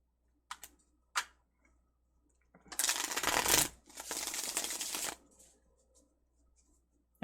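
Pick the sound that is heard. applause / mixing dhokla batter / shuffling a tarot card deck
shuffling a tarot card deck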